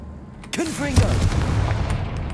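The Confringo fire spell bursts with a sharp explosive hit in the video game Hogwarts Legacy, a single close blast followed by a rumbling tail with game sound around it.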